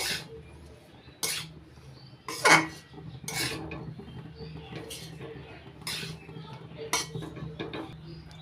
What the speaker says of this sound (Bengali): পোলাওয়ের সঙ্গে ঘিটা ভালো করে মিশিয়ে নিচ্ছি